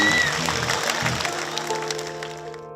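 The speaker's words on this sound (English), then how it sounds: "I want you to give a big round of applause for Rob and Kylie Truan" Audience applause for a couple at an evening charity broadcast event, a dense wash of clapping that stays steady and slowly thins out, with music or tones rising underneath.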